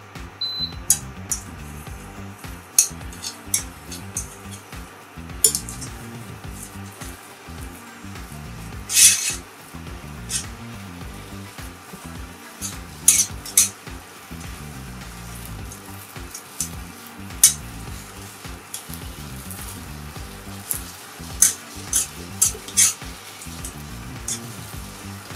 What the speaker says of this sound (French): On va remettre notre casserole sur le feu pour dessécher la pâte.